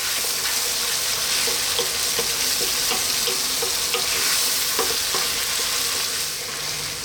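A mushroom, cream and tomato pasta sauce sizzles in a pan as a spoon keeps stirring it, a loud continuous bubbling hiss with light scraping knocks throughout, close up and without talking.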